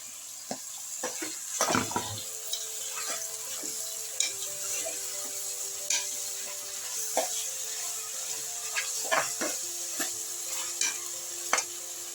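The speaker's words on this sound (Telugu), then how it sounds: "పచ్చిమిర్చి ఇది ఒక్క నిమిషం ఫ్రై చేసి టమాటా వేసేసుకో" Green chillies frying in a pan for a jowar millet khichdi, a steady close sizzle punctuated by repeated spatula scrapes and knocks against the pan, with no talk.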